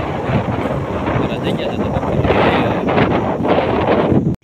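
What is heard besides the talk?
wind blowing outdoors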